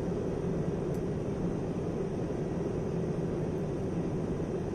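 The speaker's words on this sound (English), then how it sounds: "And now I'll pull in the speed brake just to slow her down some." Steady broadband roar of an F-86F Sabre jet in DCS flight simulation with the speed brake extended, a continuous airflow and engine rumble holding level throughout with no talk.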